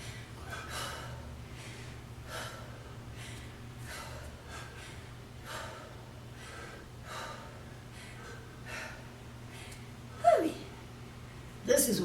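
Heavy breathing from people working out in a strength training and cardio class: rhythmic, forceful exhales and gasps repeat about every second or so, close and clear over a low steady hum, ending in a couple of louder snorting breaths.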